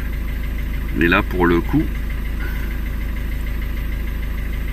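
A Ford Focus idles after restarting, a steady low engine drone running throughout, with someone speaking French briefly over it.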